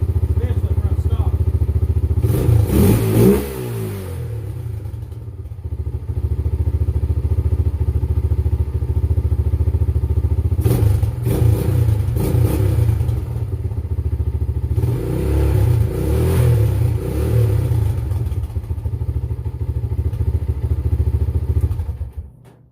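Honda 300EX ATV fitted with a homemade $3.99 exhaust idles loudly and steadily up close, broken by three bursts of revving around the middle and end, with no talk over it.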